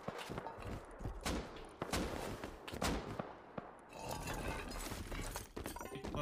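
Gunfire in the video game Rust during an online raid: rapid cracking shots and bursts of automatic fire, with a heavy impact or shatter, then a steady rattling stretch of fire, loud and near.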